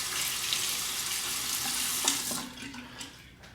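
Tap water runs steadily as a razor is rinsed under it after a shave, a close, even hiss that thins out and turns patchier near the end.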